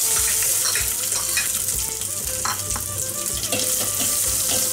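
Dried red chilies and shallots sauté in a pan for a Kerala sadhya dish, giving a loud, steady sizzle with scattered pops and light stirring throughout, no voices.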